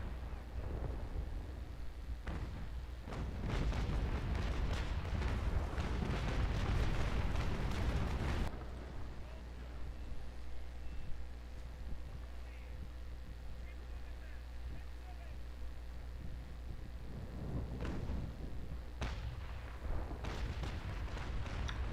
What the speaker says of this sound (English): We can do another broadside.